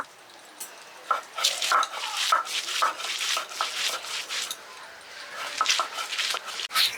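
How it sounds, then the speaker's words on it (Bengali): Onion being ground by hand on a traditional grinding stone, with repeated scraping, rubbing strokes in an uneven rhythm, close and moderately loud, with no talking. "আর এখন বেটে নিব পেঁয়াজ।"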